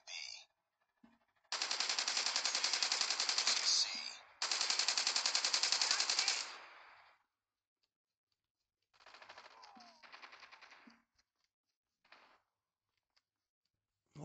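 Automatic weapon fire from a skinned gun in the Call of Duty Mobile game: two long loud bursts of rapid shots, then a shorter quieter burst and a few isolated clicks.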